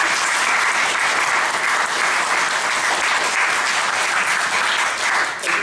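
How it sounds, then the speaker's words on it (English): A seated audience at a conversation on faith and gender breaks into sustained, dense applause, loud and even throughout, easing slightly only at the very end. "So can we give a big applause to Sister Forcades?"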